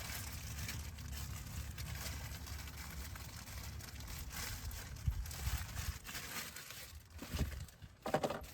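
Plastic bag crinkling as a new engine air filter for a 2017 Honda Civic is pulled out of its wrapping, with soft rustles and sharper crackles near the end, up close and quiet, no talking.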